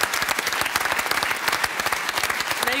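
Studio audience applause on a German talk show, a dense, steady wash of clapping hands that stays loud and even throughout with no voices on top.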